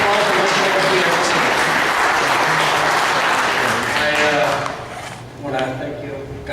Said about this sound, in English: Give him a hand of applause